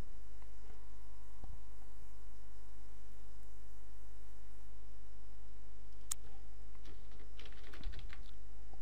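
A computer keyboard is typed on quietly, with a few faint keystrokes early and then a short burst of clicking near the end, all over a steady mains hum.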